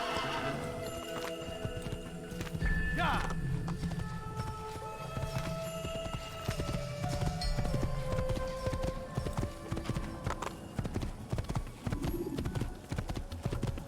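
Horse hooves clip-clop in an Assassin's Creed video game, a brisk rhythmic clatter running throughout with a whinny partway through, close and clear over faint game background sounds.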